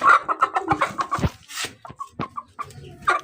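Chickens cluck close by in a rapid, uneven run of short clucks and squawks, with a few sharper calls toward the end.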